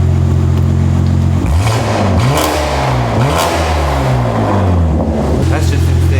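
A 2024 BMW G80 M3 CS with a Valvetronic titanium exhaust, valves open, idles loudly up close, then gets one sharp rev that climbs and falls back, followed by a few quick blips before it settles to idle again.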